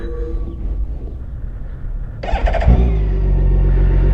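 A BMW K1600 B motorcycle sits in neutral as its starter whirs and the big six-cylinder engine catches about two-thirds through, settling into a loud, steady, smooth idle close by.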